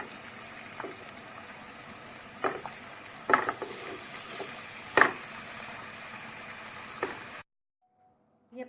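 Cooked masala and rice being mixed together for dal khichdi, with a low background hiss and scattered clinks and scrapes of a spoon against the pot, which then falls silent near the end.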